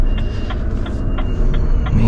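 Reversing beeps from a vehicle, six evenly spaced electronic tones over a low engine rumble, loud and close.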